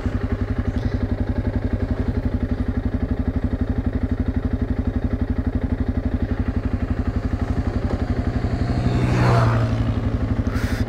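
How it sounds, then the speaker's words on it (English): A motorcycle engine thrums steadily and close by, its rhythmic pulsing rising and swelling briefly near the end as it passes. "Oh, there's a motorbike coming."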